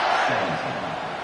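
A stadium crowd in the College Football 26 video game roars and cheers in a steady, loud wash of voices around a kickoff.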